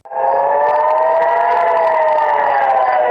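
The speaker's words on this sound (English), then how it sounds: "Hezbollah rocket barrages triggered sirens across northern Israel overnight and early Sunday morning" Civil defense sirens wail across northern Israel during rocket barrages: a loud, sustained mechanical tone that rises quickly at the start and then holds a steady, slightly wavering pitch throughout.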